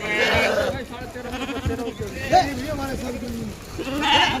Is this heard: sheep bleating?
yes